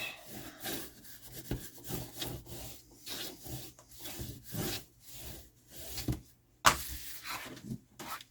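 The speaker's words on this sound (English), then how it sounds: "Flip it over and burnish." A paper cover is burnished by rubbing, close, steady back-and-forth scraping strokes in a regular rhythm, with one sharp tap partway through.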